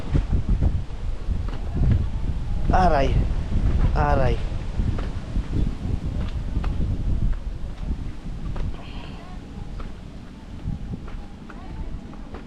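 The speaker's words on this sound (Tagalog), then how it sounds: "Buti na lang may hangin, no?" Gusty wind buffets the microphone in low, rumbling bursts on a hilltop at Kamay ni Hesus, Lucban, Quezon, strongest early on, with a couple of brief whooping voices partway through.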